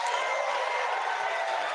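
Audience applause fills the chamber at a State of the Union address, a steady wash of clapping from a large crowd, heard at a distance and evenly sustained.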